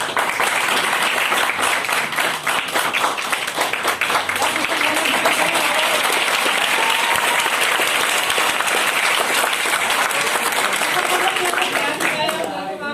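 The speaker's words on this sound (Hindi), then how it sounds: "तो एक बार जोरदार ताली" Loud, sustained audience applause at a Vestige business event, dense clapping filling the whole stretch without letup, with some voices mixed in.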